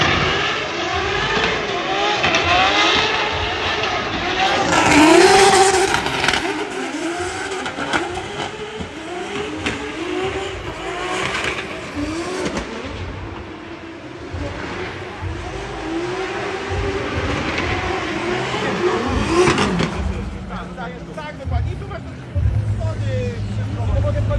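Drift cars at a practice session in Ferropolis, including a Nissan 180SX with an RB28 engine, their engines revving and wailing as they pass, heard under continuous commentary and crowd babble.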